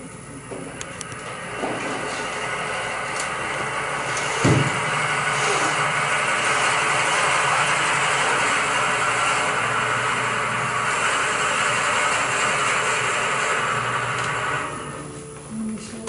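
A wood lathe turning a lidded box runs at about 350 RPM with a steady broadband rumble and hiss, a sharp knock near the start, and the drone fading toward the end.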